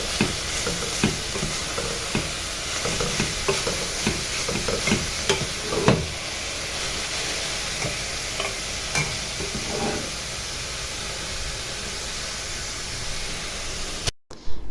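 Cabbage and onions cook in a pot with a steady, close sizzling hiss and occasional stirring scrapes throughout, ending abruptly.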